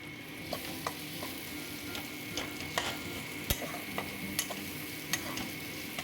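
Green chili and spices stir-fry in a pan for a mustard bhetki curry, giving a quiet, continuous sizzle. Sharp scrapes and clinks from a spatula on the pan break in at irregular intervals, close and without any voice.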